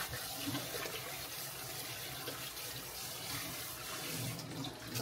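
A kitchen tap runs steadily while noodles are rinsed in the sink, producing a faint, continuous splashing wash of water with no talk.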